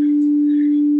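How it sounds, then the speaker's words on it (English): A steady pure sine wave test tone plays in an audio visualizer, one clean loud constant pitch held evenly for about a second with nothing else. "let's pick a sine wave to start off with"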